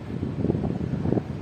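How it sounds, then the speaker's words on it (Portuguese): South wind blowing at a seaside apartment in Guarapari, a steady low rumble of gusts buffeting the microphone, close and fairly loud with no voices. "Hoje o vento tá um vento sul, tá esfriando em Guarapari"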